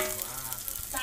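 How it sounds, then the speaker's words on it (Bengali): Fish fries in hot oil in a pan, giving a steady, close crackling sizzle that lasts about a second with no talking. "বাদ বাকি মাছগুলো দিয়ে দেওয়া হচ্ছে ভাজার জন্য"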